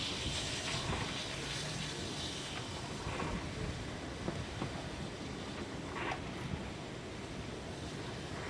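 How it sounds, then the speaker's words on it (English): Two diesel locomotives shunt a train through a triangular rail junction in New South Wales, giving a steady, broad rumble and hiss with occasional metallic squeals, heard at a moderate distance with no talking. "The two diesel locomotives are now shunted the train via the triangular junction."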